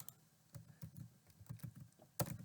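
Keys clatter on a computer keyboard in quick, irregular bursts of soft taps, close and quiet, while someone builds a C# user interface, with short pauses between runs of keystrokes.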